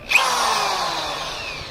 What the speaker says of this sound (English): Okay, drill slowly. You don't want to break the carrot.